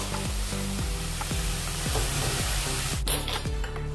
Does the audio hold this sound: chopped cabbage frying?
yes